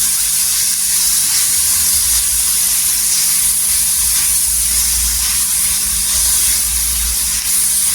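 Tomatoes and onion sauté in oil with salt for an eggplant bharit, giving a loud, steady hiss and sizzle that runs unbroken throughout.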